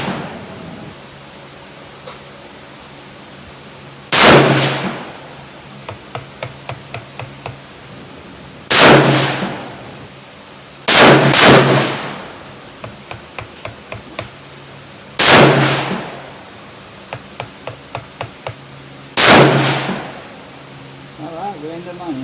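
Six sharp, loud rifle reports from a Seekins Havak Bravo in 6.5 Creedmoor on an outdoor range shooting at 100 yards, spaced several seconds apart with one quick pair, each followed by a brief ringing tail.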